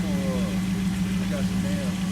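Hemi V8 engine running under a truck hood, a steady low idle hum, close and continuous, with a person's voice heard faintly over it.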